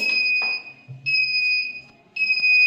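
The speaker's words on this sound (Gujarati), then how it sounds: "અહીં બઝર વાગે છે." Low-level alarm buzzer on an Android-linked glucose drip bottle stand, signalling that under 20% glucose remains; a loud, piercing electronic tone sounds in three separate bursts with short gaps between them.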